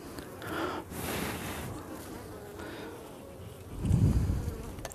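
Honeybees buzz at an opened beehive in November, a close, continuous droning hum with individual bees swelling louder as they pass nearby.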